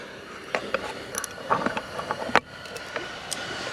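A hand ratchet tightens a bolt on a Harley-Davidson lower triple tree, giving scattered clicks and short metallic ticks in an irregular rhythm, close up over quiet background hiss.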